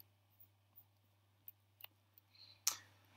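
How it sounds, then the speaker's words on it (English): A few faint, sparse clicks sound in a quiet room, then one sharper, louder mouse click near the end, with no talk. "Let's click the Request Update button and make a request"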